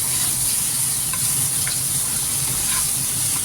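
Pomfret fish curry masala with chilli powder and salt is stirred in a hot pan, giving a loud, close, continuous sizzle with faint scraping and no talk.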